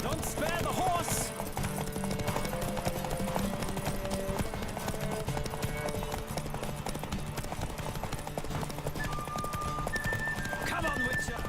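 Horses gallop in a race in The Witcher video game, a rapid clip-clop of hooves running throughout with whinnies and neighs near the start, while game voices talk over the hoofbeats.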